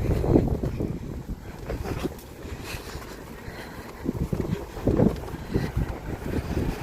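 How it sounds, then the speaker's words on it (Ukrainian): Wind gusts buffet the microphone outdoors in Ireland in a continuous low rumble, swelling and easing. "Вітер трохи сьогодні."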